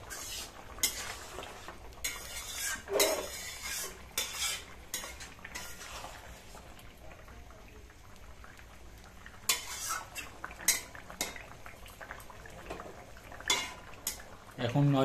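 Tilapia fish curry with flat beans and kohlrabi cooking in a pan, with spoon scrapes and clinks against the metal over a soft sizzle, irregular stirring strikes throughout.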